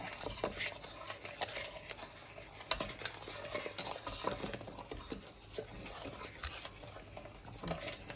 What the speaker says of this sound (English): Make sure also mix this thoroughly. You don't want any little lumps or bumps.